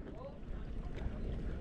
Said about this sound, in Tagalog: Ang lakas ng makina ah.